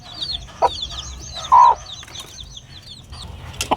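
Clucks from a farmyard hen with her chicks, a few short calls and one louder sustained squawk near the middle, set against faint background chatter of other birds outdoors beside a house.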